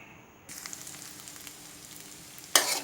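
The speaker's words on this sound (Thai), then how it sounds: "ใส่น้ำมันลงไปครับ พอร้อนแล้วเดี๋ยวเรา เอาไข่ลงไปก่อนครับ" Eggs frying in hot oil in a pan while Thai fried rice with salted gourami is cooked: a steady close sizzle with light crackles, then a sudden louder hiss near the end.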